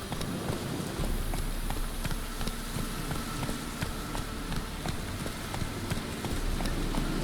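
A horse gallops in The Witcher 3 video game, dense rapid hoofbeats pounding continuously and loudly over a rushing, rain-like background.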